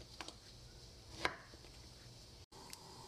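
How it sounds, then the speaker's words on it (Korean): A knife cuts a seedless round Korean pumpkin into thick slices on a board, giving a few faint, isolated taps spaced over a very quiet background. "또 반을 가르고 조금 도톰하게 썰어줍니다"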